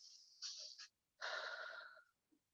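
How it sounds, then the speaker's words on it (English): Two slow, deep breaths drawn during a full-body stretch in a fitness class, soft and close, with a brief pause between them and no talking. "We'll take a few deep breaths here"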